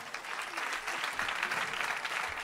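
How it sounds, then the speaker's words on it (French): An audience applauds children, a soft but steady patter of many hands clapping at moderate distance, without voices over it. "Oui, on peut les applaudir."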